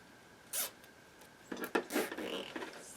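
A zip tie is pulled through burlap in a winter tree wreath project, giving a short rasp, then a burst of rapid ratcheting zips and rustling fabric close by.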